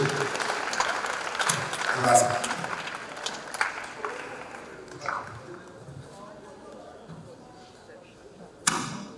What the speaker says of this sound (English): Keep clapping until he gets on stage.